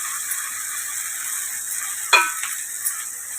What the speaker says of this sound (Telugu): మొత్తం కలిపేటట్టు కలిపేసుకొని మనం ఇప్పుడు దీని మీద సేమియా వేసేసుకోవాలి.